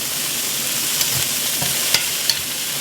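Garlic and ginger sizzling in a hot stir-fry pan, a steady close-up frying hiss with a few soft clicks of stirring, no voices.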